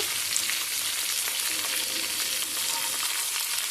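Onion pieces and curry leaves fry in a pan before chicken is added, a steady moderate hiss of sizzling oil with soft crackles throughout, no talk.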